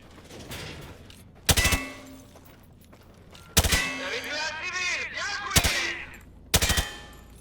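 Gunfire in the video game Call of Duty Modern Warfare 2 Campaign Remastered, four loud, sharp bursts spaced a second or two apart over quieter combat ambience and voices.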